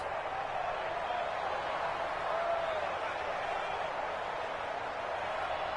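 Steady roar of a stadium crowd in the Madden NFL 20 football video game, continuous and fairly quiet, holding an even level throughout without distinct peaks.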